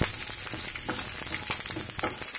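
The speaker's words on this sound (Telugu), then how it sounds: "ఇలాగా పోపు వేయించుకోవాలి." Lentils with dried and green chillies fry in hot oil for a tempering, a continuous crackling sizzle with frequent sharp pops and spatters, close and alone.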